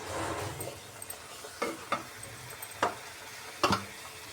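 Prawn curry is stirred in a pan, with a spoon scraping and tapping the metal in several separate knocks over a soft background sizzle. The sounds are close and fairly quiet, with no talking.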